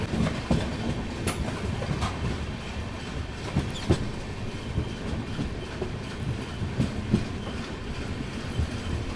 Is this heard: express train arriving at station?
yes